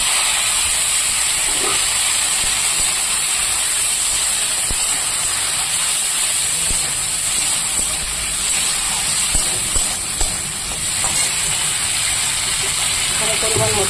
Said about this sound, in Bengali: এবার আমি কেটে রাখা বরবটিগুলোকে ভেজে নেব।